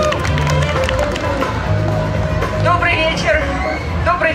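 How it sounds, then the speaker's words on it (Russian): An audience at an evening gathering of a regional newspaper applauds as a guest comes on stage, continuous clapping mixed with crowd babble and a few voices cutting through. "Под ваши бурные аплодисменты."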